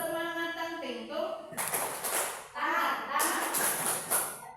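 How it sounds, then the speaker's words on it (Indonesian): A group of women performs a rhythmic clapping routine called tepuk semangat, with bursts of dense, close clapping following a brief opening of voices. "Namanya tepuk semangat tangtingtung."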